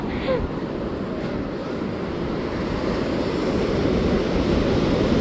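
Ocean surf washes in at Puri beach with a loud, continuous roar, wind buffeting the microphone throughout.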